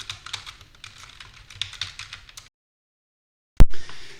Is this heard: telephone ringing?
no